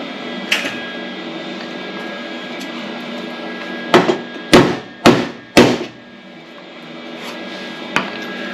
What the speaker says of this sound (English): hammer that down till it feels smooth